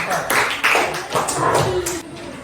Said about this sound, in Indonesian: tepuk tangan untuk kelompok mereka, kelompok 4